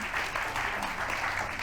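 A brief, even patter of applause, fairly faint and diffuse, continuing steadily without voices.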